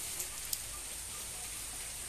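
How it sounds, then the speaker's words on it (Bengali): Light monsoon rain patters steadily as a soft, even hiss, with a few faint isolated drops standing out. "টুকটুক করে বৃষ্টি হচ্ছে।"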